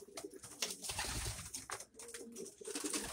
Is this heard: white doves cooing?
yes